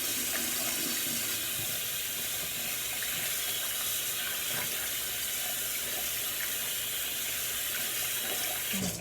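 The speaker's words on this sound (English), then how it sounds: "I'm gonna wash my hands" Tap water runs steadily into a sink as hands are washed beneath it, a continuous hissing splash that holds at an even level throughout with no talking.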